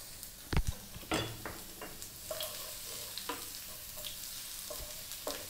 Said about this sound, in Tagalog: ilalagay na po natin yung ating chopped garlic